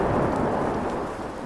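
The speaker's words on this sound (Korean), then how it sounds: "갑자기 엄청난 천둥 소리가 났습니다." Thunder sound effect rumbling through a heavy mountain rainstorm, a dense, loud, steady roar of rain and thunder with no voices.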